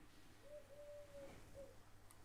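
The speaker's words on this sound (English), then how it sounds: "That is a very loud pigeon." A pigeon coos nearby during a home piano livestream, giving two or three short, low, hollow notes that sit faintly over a quiet room hiss.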